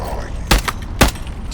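Two sharp, loud shotgun blasts about half a second apart ring out in the video game Into the Radius 2, each with a booming low thump, over faint background noise.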